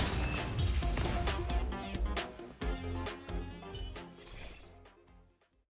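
A rock-shattering slash attack from Honkai: Star Rail bursts out as a loud, dense crash of breaking and shattering debris layered over game music, with several sharp hits before fading away at the end.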